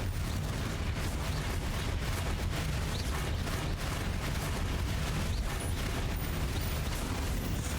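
Repeated Confringo fire spells blasting in Hogwarts Legacy, a dense, continuous barrage of booming explosions and crackling impacts with heavy low rumble, loud and sustained throughout.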